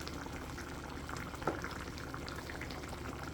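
Pumpkin sauce with butter cooking down in a pan for a red snapper dish, giving a steady, close bubbling and sizzling simmer that holds evenly throughout with one small pop partway.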